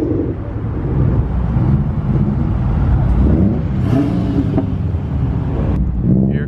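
Dodge Challenger Hellcat engine roaring loudly and steadily up close, a dense continuous rumble with revving swells and no talk.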